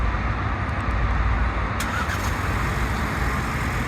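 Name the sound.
2024 Ford Ranger XLT engine starting via remote start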